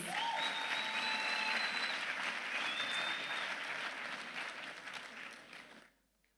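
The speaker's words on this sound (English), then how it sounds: "Let's give him a round of applause." Ceremony audience gives a youth instructor a round of applause: a full, continuous wash of many hands clapping, held steady for several seconds before tapering off and stopping abruptly, with faint voices in the background.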